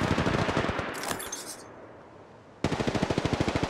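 Rapid automatic gunfire from an Apex Legends Mobile match, loud bursts of evenly spaced shots, a short pause with fading echo and clatter, then another sustained burst.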